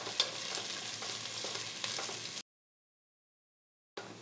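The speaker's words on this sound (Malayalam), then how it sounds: "ചെറിയൊരു സവാള അരിഞ്ഞത് രണ്ട് പച്ചമുളക് നല്ലതായിട്ടൊന്ന് വഴറ്റുക" Chopped onion and two green chillies sauté in a pan after cinnamon sticks go in, giving a soft, close sizzle with light stirring that cuts to silence for about a second and a half before returning briefly.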